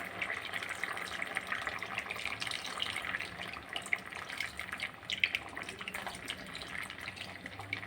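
Soaked tamarind water pouring into a pot of simmering kara kuzhambu with mochakottai and kathirikkai, a steady close trickling splash with scattered drips and bubbling, no talking.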